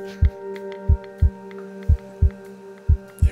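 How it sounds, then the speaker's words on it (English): Heartbeat sound effect in a poker broadcast from a heads-up match, deep thumping beats spaced evenly over a steady electronic hum, loud and alone with no talking. "And here comes the heartbeat."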